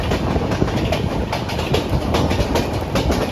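Garib Rath express train running from Agartala to Kolkata, a steady loud rumble with rhythmic clickety-clack of wheels over rail joints, heard from inside the moving carriage.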